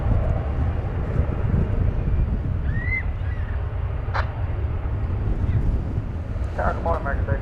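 An American Airlines Boeing 737 MAX 8 inbound from Reno arrives at Dallas Fort Worth, its engines a continuous moderate roar, with a few faint chirps and brief higher sounds over the top.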